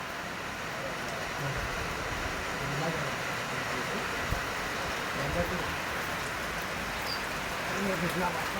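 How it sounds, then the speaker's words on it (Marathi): Continuous heavy rain hisses and patters without pause during a Ganesh immersion procession, with people's voices and crowd noise faintly mixed in beneath it. "भरपूर पाऊस चालू आहे बघू शकता तुम्ही"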